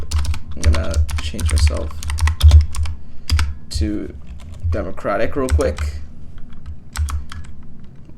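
Rapid clicking of a computer keyboard during a Hearts of Iron IV strategy session, loud and close in quick bursts, with someone talking over much of the typing.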